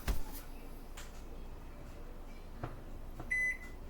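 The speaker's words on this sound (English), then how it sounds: "Let me set my timer." Kitchen timer being set while baking Amish bread, short electronic beeps from button presses, faint and spaced apart, with a longer tone near the end over a quiet room.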